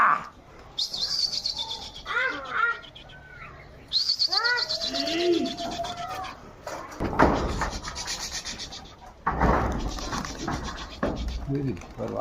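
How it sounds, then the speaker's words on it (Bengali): Display pigeons, including a coffee-coloured female, give a series of short chirping calls mixed with scratchy rustling and scraping, fairly close and varying in loudness. "মাশাল্লাহ সুন্দর বাজির কবুতর"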